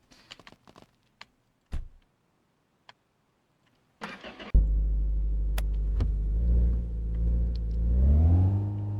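A car engine cranks and catches after some scattered clicks and knocks, then settles into a loud, steady idle that swells as it revs while pulling out of a garage.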